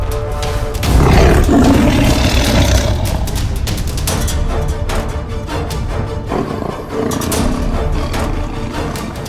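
A tiger roars in an animated Hindi episode, a deep, sustained, growling rumble that swells early and then carries on low and rough over a dense, loud background.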